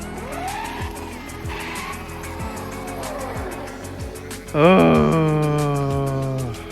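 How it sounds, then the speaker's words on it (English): An Arrma Limitless RC car drifts at high speed, its electric motor whining in repeated rising and falling sweeps, then it surges into a loud, sustained, harmonic-rich scream close to the onboard microphone. "she's doing a bit of drifting there"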